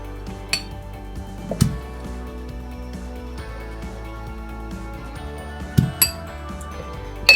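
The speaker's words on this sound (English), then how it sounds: "I don't have a cutting mold, so I'm using glass here to make into shape." A drinking glass presses into rolled donut dough, giving a few sharp clinks and taps of glass against a hard surface amid quiet kitchen handling sounds, with no talking.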